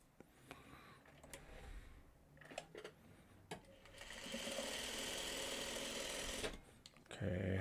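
Sewing machine stitching a fabric print, a steady close whirring run of about two and a half seconds after scattered clicks and handling taps, then stopping.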